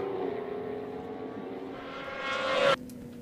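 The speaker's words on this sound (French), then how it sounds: "si jamais on pouvait voir cette moto numéro 137 qui va arriver à la sortie de la chicane à l'entrée du Mistral" A racing motorcycle at the Le Castellet circuit in an Ultimate Cup race approaches the exit of the chicane before the Mistral straight, its engine tone rising steadily and loudly until it passes close by and cuts off abruptly.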